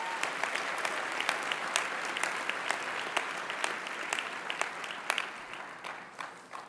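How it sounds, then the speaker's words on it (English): Graduation convocation audience claps for faculty and staff, a dense round of applause with sharp individual claps standing out, sustained and gradually thinning toward the end. "Let's give our faculty and staff a big round of applause."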